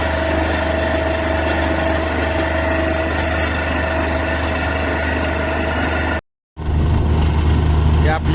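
A borewell drilling rig truck's engine runs steadily at close range, a loud continuous drone with a constant hum, briefly cut to silence near the end before resuming just as loud.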